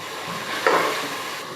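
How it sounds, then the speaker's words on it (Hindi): Tomatoes cook down in a pan as part of a zamzam biryani, giving a soft, steady sizzle with a brief stir or scrape midway, heard alone without speech. "टमाटर गलने तक पकाएंगे।"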